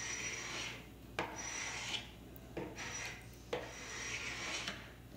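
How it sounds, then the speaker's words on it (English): Carbide scraper rasping painted finish off a wooden art deco dresser, a steady scraping stroke repeated about four times with brief sharp catches at the start of each pass, close and alone. "it just makes it a lot easier to scrape away the finish on top"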